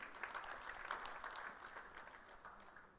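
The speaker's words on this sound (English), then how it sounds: "A round of applause for all of them." A small audience at a university public lecture gives a short round of scattered clapping, faint and somewhat distant, fading gently over about three seconds.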